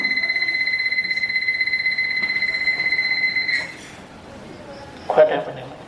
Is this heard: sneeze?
no